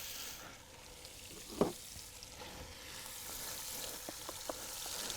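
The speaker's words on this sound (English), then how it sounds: "You can hear that good sizzle in there." Quiet steady sizzling of chicken and sausage browning in a pan, with a few faint clinks and stirring scrapes breaking through now and then.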